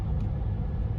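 A 2010 BMW X5 35d diesel SUV cruises at about 120 km/h, heard from inside the cabin as a steady low rumble of engine and road noise with no voices.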